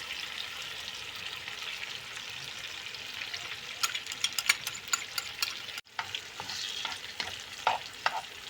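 Eggs, tomatoes and cheese sizzle steadily in a frying pan, with a spatula stirring and scraping in sharp clicks partway through, close and without talk.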